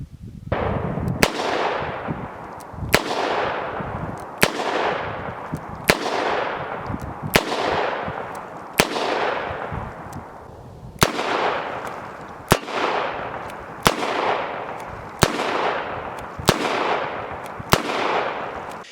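Loud Chiappa Rhino .357 Magnum revolver shots fired at a steady pace, about a dozen sharp reports spaced roughly a second and a half apart, each with a long ringing decay outdoors.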